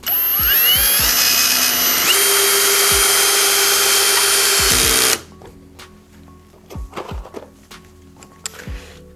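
A Vitals Professional AU 1860Pbt BS SmartLine cordless drill-driver whirs loudly at its first torque setting, driving a 4.2 by 80 screw, then stops abruptly, leaving faint clicks and handling noises.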